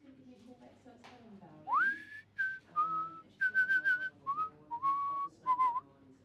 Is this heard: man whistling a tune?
yes